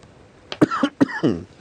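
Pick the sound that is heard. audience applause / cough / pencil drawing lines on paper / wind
cough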